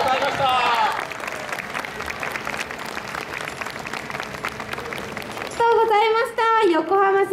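An outdoor crowd at a 2020 Lunar New Year show in Yokohama Chinatown gives a sustained burst of dense applause after the Yokohama Minato Junior High School brass band plays, with a voice speaking before and after.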